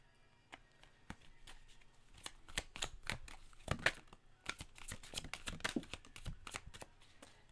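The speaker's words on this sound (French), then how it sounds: "Je vais aller prendre 5 cartes de l'oracle des Médéors." Oracle des Météores cards being shuffled by hand, a close run of irregular papery slaps, riffles and flicks continuing for several seconds.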